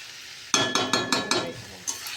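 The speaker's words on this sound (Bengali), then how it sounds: "এটা ভালো করে কষাবো।" Curry sautéing in a pan is stirred with a spatula, giving about five evenly spaced scraping strokes followed by a softer one, with no talking.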